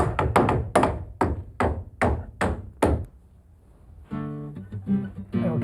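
Roof framing being nailed during a Cape-style home renovation: about ten sharp, evenly spaced hammer blows in quick succession, close and loud, then a pause and someone speaking.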